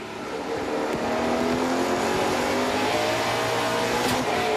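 Kevin Lacroix's No. 74 NASCAR Pinty's Series stock car, heard on board at Chaudière in the 2022 QuickWick 250 with a cut right rear tire, drones with a loud, steady engine roar that holds unbroken throughout, with no voices.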